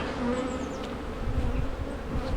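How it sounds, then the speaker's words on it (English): Excitable honeybees swarm around an open hive in an apiary, giving a steady, fairly soft buzzing drone with occasional individual bees passing closer. "They are pretty excitable bees."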